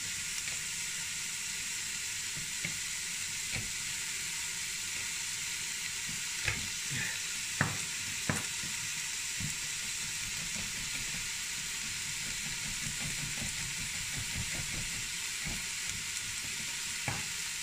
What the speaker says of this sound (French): Oignon, gingembre, à feu doux.